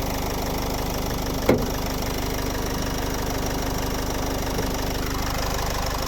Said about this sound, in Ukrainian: послухаємо, як працює наш двигун